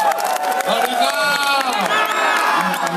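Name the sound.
applause and cheering at a party event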